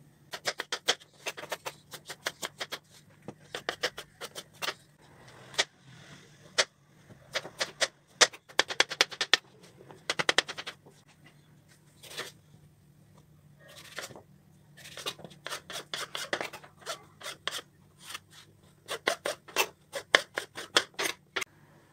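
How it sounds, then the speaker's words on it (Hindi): A knife slices through a red bell pepper on a cutting board, giving quick bursts of crisp chopping strokes separated by short pauses, close and fairly quiet with no talking. "अब सबसे पहले पिमेंतो रोjo काट लेते हैं।"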